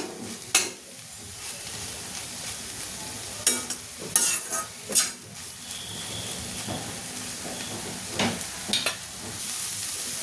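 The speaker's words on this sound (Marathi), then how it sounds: "शेंगदाण्याचा कूट टाकून आपण दोन मिनटं परतवून घेऊया" Fenugreek and green pea vegetable with coarsely crushed peanuts, stir-fried in a pan, sizzling steadily while a spatula scrapes and clatters in several sharp bursts, close and alone.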